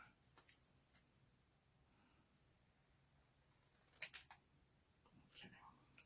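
Scissors cut paper for a handmade journal in a few faint, quick snips spread across a quiet stretch, with a couple of louder cuts near the middle.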